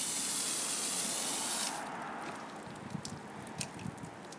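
Pressure washer nozzle spraying water to rinse down a building gutter, a loud steady hiss that cuts off sharply partway through, followed by quieter dripping and splashing.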